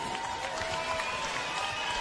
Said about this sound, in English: A big round of applause, ladies and gentlemen, for both of our fighters in the ring.